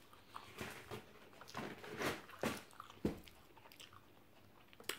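Someone eating sticky rice with padaek, a fermented fish sauce, up close: several soft, irregular bites and wet chewing crunches spaced about half a second apart, fairly faint, with no voices.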